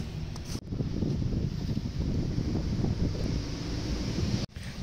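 Strong outdoor wind on a mild, thawing day buffets the microphone in a loud, steady rumbling roar broken by two brief dips.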